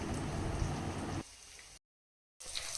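Three battered pieces fry in hot oil, making a dense, even crackling hiss like rain that drops briefly to full silence before resuming.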